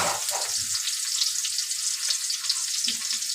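Onions sizzle in hot oil in a pan while mash kalai dal is being cooked, a steady bright frying hiss running throughout with a few soft stirring clunks and no talk.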